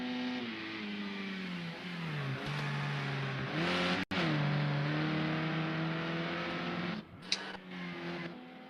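Touring cars racing at Zolder in Project Cars 2 on PS4, a steady engine drone with harmonics that rise and fall through gear changes, one brief cutout midway and a sharp transient near the end.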